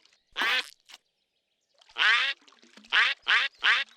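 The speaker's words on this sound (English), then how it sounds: "Okay, it wasn't duck mud. There were real ducks." Ducks quack in a cartoon scene, one loud quack, a short pause, then a run of four brisk quacks close and clear with nothing else around them.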